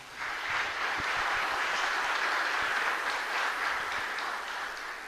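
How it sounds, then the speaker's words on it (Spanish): Sustained applause from the congregation at Mass in the Capilla Santa Rosa chapel in Ñemby, a dense even wash of clapping held for several seconds and slowly easing, with no speech over it. "Para todos ellos, fuerte aplauso también."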